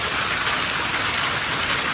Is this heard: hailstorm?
yes